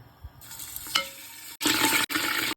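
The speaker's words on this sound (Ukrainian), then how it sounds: "наливаємо масло, кидаємо м'ясо." Oil crackles and sizzles as meat goes into an Afghan kazan cauldron on the stove, with a sudden loud hiss in bursts near the end.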